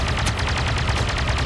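Dense, continuous blaster gunfire in the video game Star Wars: Battlefront 2, overlapping rapid energy shots in a loud unbroken barrage.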